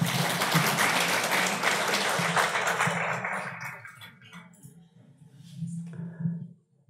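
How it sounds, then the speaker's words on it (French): A conference audience applauds participants leaving the stage, with sustained clapping for a few seconds that then thins out and fades to scattered claps. "On les applaudit."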